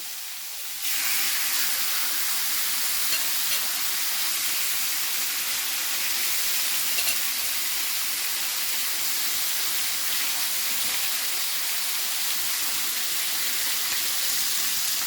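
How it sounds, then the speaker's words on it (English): Chicken in honey teriyaki sauce sizzles steadily in a hot pan, a loud continuous hiss that starts abruptly as the meat goes in and holds even for the rest, with no talking. "we're just going to lay that chicken into the pan"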